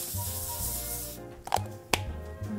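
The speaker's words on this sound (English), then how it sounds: "I do spray this a little bit just so that it doesn't stick on the foil" A can of cooking spray hisses briefly onto a foil-lined baking pan, a short spray at the start followed by a couple of sharp taps and handling noises close by.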